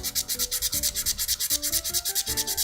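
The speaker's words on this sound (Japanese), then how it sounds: "このヤスリの音聞くといつもゾクってなるらしい" A metal file rasps back and forth across hardened craft resin, a steady rhythmic scraping of about eight strokes per second, close and fairly loud with no voices.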